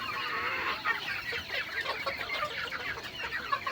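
Chickens on a poultry farm cluck in a dense, steady chorus of quick, overlapping calls, with no talking.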